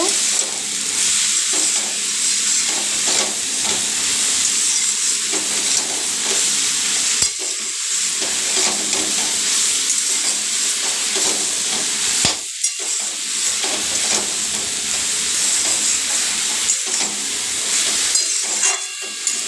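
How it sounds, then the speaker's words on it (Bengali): Greens with potato and eggplant fry in a pan with turmeric, a steady bright sizzle and hiss with intermittent stirring scrapes throughout, no voices. "দিয়ে দেবো একটু হলুদ একটু নাড়াচাড়া করব"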